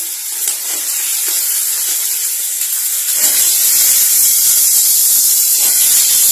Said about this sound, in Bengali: এই আলুটাকে আমি দিয়ে দিলাম এবার আমি এটাকে ভালো মতো ফ্রাই করবো